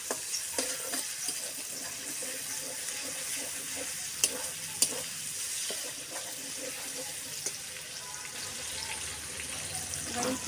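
Slit green chillies fry in hot oil for a chicken curry, giving a steady, close sizzle throughout, with faint occasional clinks of stirring.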